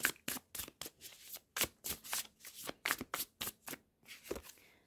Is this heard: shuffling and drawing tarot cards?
yes